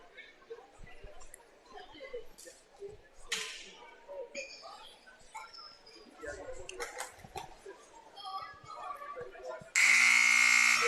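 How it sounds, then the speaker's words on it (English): Loud electronic buzzer at a girls' basketball game sounds as one sustained blast near the end, after a stretch of squeaking sneakers, court thuds and scattered crowd noise. "that buzzer is real loud. Buzzer's gone off a few times"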